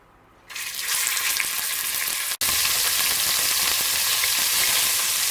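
Beef hitting hot canola oil in a pot, a loud steady sizzle that bursts in and holds, with a brief dropout midway before the frying roar resumes, no voices.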